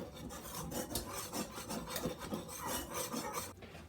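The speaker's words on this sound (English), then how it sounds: "I'm going to give that a quick whisk until it's well combined." Brisk, steady scraping rhythm of a whisk stirring dry flour, baking soda and pumpkin pie spice in a bowl, close and continuous with no talking.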